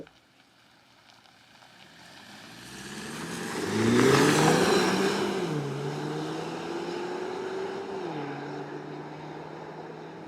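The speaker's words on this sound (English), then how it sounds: "driving the Mercedes GLC300" A 2024 Mercedes-Benz GLC300 SUV pulls away, its engine swelling from quiet to a firm rising drone that steps through gear changes and then settles into a steady cruising hum, heard close with no talking.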